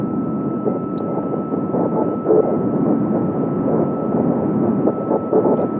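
A dense, rumbling synthesized noise texture from the Numerical Artifacts plugin's noise generator preset, like a distant engine or wind roar, plays steadily and loudly with no voices.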